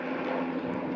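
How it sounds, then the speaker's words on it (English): Steady drone of an airplane in flight from inside the cabin, a constant engine hum with broadband rushing noise, no voices. "We're on the plane"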